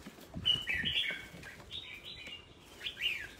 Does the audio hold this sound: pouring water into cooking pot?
no